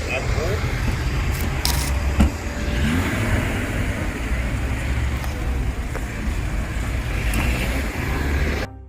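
A car passes with a loud, continuous road and engine roar that stays close and steady throughout, with occasional small clicks and rattles.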